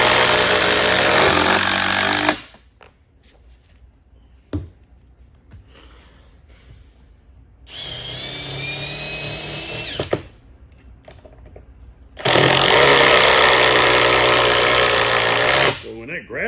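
DeWalt drill driving screws with Hercules Phillips bits, loud whining bursts near the start, middle and end, separated by quieter pauses with some voices.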